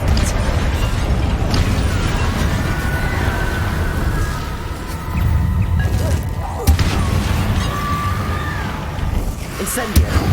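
Confringo and Incendio spell blasts in the Hogwarts Legacy video game, loud rumbling booms and fiery bursts rolling one after another, with sharp cracks near the middle and end amid a continuous roar of combat effects.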